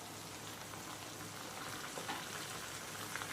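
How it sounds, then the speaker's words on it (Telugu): Prawn pakoda fritters crackle and sizzle steadily in hot oil, a dense, continuous hiss of frying with small pops scattered through, close and fairly loud, no voices. "ఇప్పుడు వీటిని కూడా వేగనిద్దాం."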